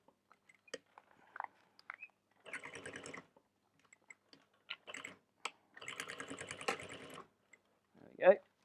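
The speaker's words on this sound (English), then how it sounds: "I did back stitch and I'm about to back stitch again" A sewing machine back stitches a bicycle handlebar bag in two short bursts of rapid rattling stitching, separated by scattered clicks and small handling knocks, ending with a brief rising squeak.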